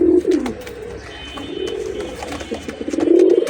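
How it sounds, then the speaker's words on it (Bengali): Close cooing from Jhuma Giribaz pigeons comes in rolling, throaty phrases at the start, the middle and the end, with a softer murmur in between and light background clatter. "একেবারে মাদিটা ঝুমা কবুতর, ফুল ক্রোজে আছে"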